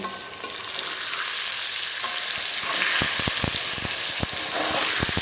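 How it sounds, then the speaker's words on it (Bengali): Elephant foot yam sautéing with chili powder and turmeric in a hot pan gives a steady broadband sizzle, joined after a few seconds by a run of sharp scraping clicks from a stirring spatula, close and fairly loud with no voices. "একটু লঙ্কা গুঁড়ো এখন ওলটা কিছুক্ষণ কষিয়ে নেব"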